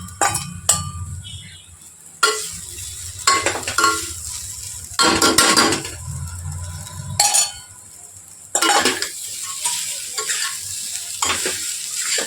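Spoon stirring a sweet cardamom-and-cinnamon mixture in a pot over low heat, with repeated scraping strokes in bursts against a steady low sizzle, close and fairly loud, no talking.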